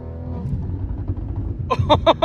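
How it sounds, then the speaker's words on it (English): Low idling exhaust rumble from a tuned BMW M340i with an uneven burble, followed by several quick, loud throttle blips close by. "this burble sounds good."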